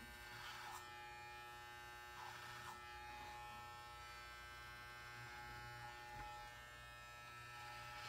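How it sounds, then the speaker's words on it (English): Electric hair clippers with the blade fully closed run over an upside-down clipper comb during a barber haircut, a steady high-pitched buzz held throughout with a faint low hum and a few brief cutting accents, close but quiet. "now I'm going to use my clipper comb upside down and my blade totally closed"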